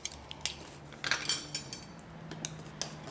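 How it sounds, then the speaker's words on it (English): Whisk tapping and scraping against a bowl while a peanut butter sauce is mixed, irregular clicks and clinks at close range, fairly quiet with a faint low hum beneath. "So you just keep whisking"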